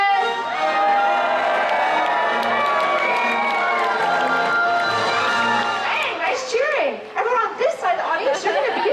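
Theme-park show audience at Universal Studios cheering, shouting and making noise to spur on a performing animal actor, a loud crowd roar that breaks into scattered shouts and laughter near the end.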